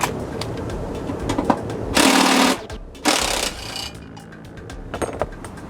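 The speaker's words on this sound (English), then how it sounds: "Now we gotta unscrew 6 on each side." Two loud, brief bursts of a power driver or impact tool removing bolts from a Classen spring tine blade, surrounded by quieter mechanical clicks and rattles of the work.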